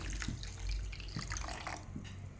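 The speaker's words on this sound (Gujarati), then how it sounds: "હવે તેમાં આશરે બસો એમએલ જેટલું પાણી ઉમેરી દઈશું" Water, about 200 ml, pours and splashes softly onto sugar in a container for a couple of seconds, quiet and close.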